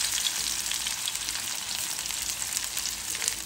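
Onion dropped into hot oil with panch phoron and garlic for aloo bhaji, a dense, even, crackling sizzle filling the whole stretch, close and steady with no talk.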